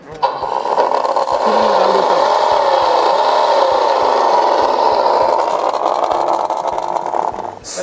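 A radio-controlled car's separately powered supercharger motor revs in place, a close, loud, steady whirring drone with a faint rhythmic ticking running through it for several seconds.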